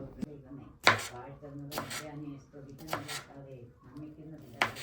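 A knife chops tomato, green chili, ginger and garlic on a board in a home kitchen, a few separate sharp thuds spaced about a second apart while a person talks over them.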